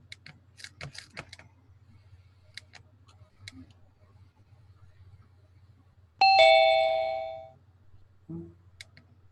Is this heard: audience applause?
no